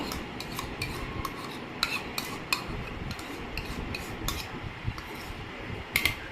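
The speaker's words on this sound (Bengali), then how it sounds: "দইটাকে দিয়ে দিচ্ছি দইটা আমি পুরোটাই দিয়ে দেবো" Yogurt going in for a mango lassi in a home kitchen: a spoon scrapes and taps against the bowl in soft, irregular clinks and rubs, fairly quiet, with no talking.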